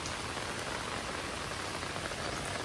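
Rain falls in a dense, steady hiss of drops on surfaces, close and unbroken, with no voices.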